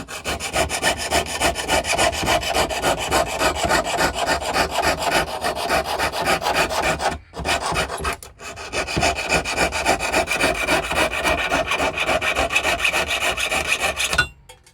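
A jeweller's saw with a number 3 blade cuts 18 gauge copper strip in fast, close back-and-forth rasping strokes. The rhythmic sawing runs for most of the stretch, with two brief pauses, and there is no talking.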